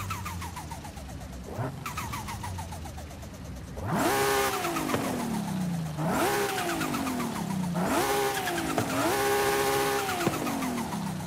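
A 2019 BMW Z4 Roadster engine, heard from inside the car in Forza Horizon, idles and then revs repeatedly, with loud rising and falling pitch sweeps in several close, strong pulls.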